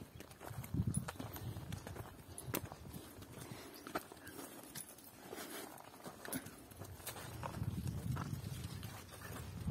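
Hoofsteps of a mule ridden through rural Brazilian sertão farmland as the mounted rider opens a gate, giving a loose, irregular run of nearby clops over a low outdoor rumble.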